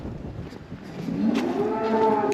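Dairy cows in a barn on a Polish farm low, a deep drawn-out moo rising near the end over a steady background hum, fairly close and with no talk.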